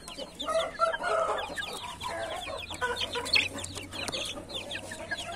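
Indian game roosters and hens on a hot day, clucking and calling in a busy flock with scattered crowing, steady and moderately near, no talk over it.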